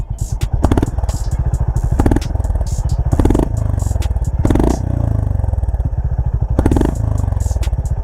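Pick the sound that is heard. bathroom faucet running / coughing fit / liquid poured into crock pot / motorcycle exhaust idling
motorcycle exhaust idling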